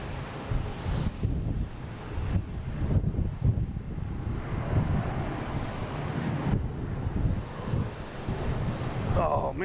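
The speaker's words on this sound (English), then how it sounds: "we have American Airlines landing on 4 left." An American Airlines airliner lands on runway 4 left at Boston Logan International Airport, a steady broadband jet roar with wind buffeting the microphone across the whole stretch, fairly close and continuous.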